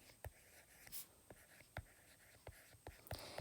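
A pencil writes the word ratio by hand on paper, heard as faint, close scratchy strokes and taps with short pauses between them, in a quiet room.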